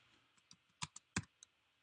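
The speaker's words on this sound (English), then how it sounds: "So I'm typing scp." Someone types on a computer keyboard, entering a file-transfer command: a short, quiet, close run of sharp key clicks, a few louder taps standing out among lighter ones.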